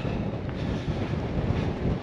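Strong, steady wind on a ridge on Fogo buffets the microphone with a constant low roar, gusting slightly throughout, with no voices.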